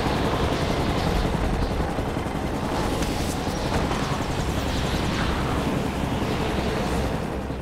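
A helicopter in a Hulk movie action scene roars loud and continuous, its dense rotor and engine noise filling the whole stretch, with sharp bursts like gunfire or impacts punching through now and then.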